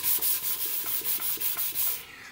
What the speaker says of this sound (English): Now I'm just going to rough the entire surface here with 600 grit so that the wipe on poly will adhere to it better.